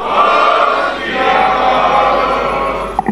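A Sikh congregation at a Kolkata Guru Nanak gurpurab seminar shouts the jaikara response together, a loud sustained crowd roar of many voices lasting about three seconds before a brief knock.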